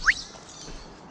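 An Eastern whipbird at Archerfield Wetlands gives a single quick, sharp rising whistle right at the start, clear but brief, followed by faint outdoor background.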